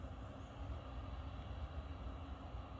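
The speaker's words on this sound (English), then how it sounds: "the only noise you'll hear is the fan on top of the locomotive blowing" A locomotive in dynamic braking, part of a three-unit lash-up on the head end, gives off a steady, even roof-fan blowing roar with a low rumble beneath, unbroken and moderately distant.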